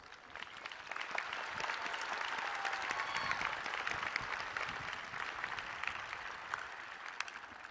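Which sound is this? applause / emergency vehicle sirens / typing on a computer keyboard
applause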